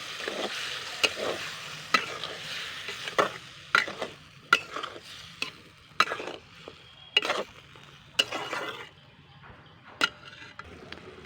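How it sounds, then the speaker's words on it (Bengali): Garlic sautéing in a pan for a broccoli curry, with a steady soft sizzle under repeated sharp spatula knocks and scrapes against the pan, close and evenly spaced. "এটা দিয়ে আমি এবারে কষিয়ে নেব।"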